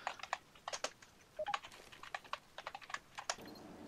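Fast, irregular bursts of keystrokes on a computer keyboard as a chat message is typed during a Left 4 Dead 2 game session, close and fairly quiet with no speech.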